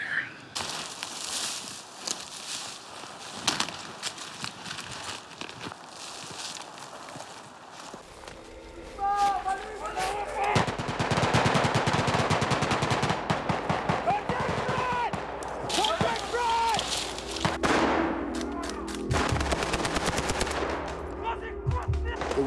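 Blank gunfire from a military training exercise staged for a film, with rapid automatic bursts and scattered single shots, near and loud, alongside footsteps and voices talking.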